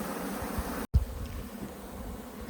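Honey bees from a queenless hive buzz in a steady, close swarm drone, broken by one brief dropout before the hum resumes.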